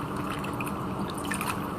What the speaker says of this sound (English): Just squeeze it, take out excess water, squeeze it nicely